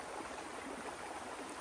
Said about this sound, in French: j'ai le bruit de l'eau